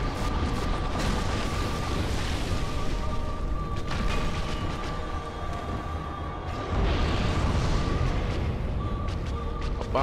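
Explosion in Dark Souls Remastered: a broad, rumbling burst with a sustained roar and a second swell midway, mixed with game ambience, no talk over it.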